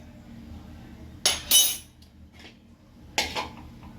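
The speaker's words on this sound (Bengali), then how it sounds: "ঢাকা দিয়ে দেবো।" A metal lid set on a pot of lentils cooking on a gas stove gives a couple of sharp clinks and a brief clatter, close by, with a further clink a moment later and no talking.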